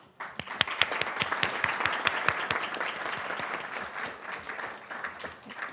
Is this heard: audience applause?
yes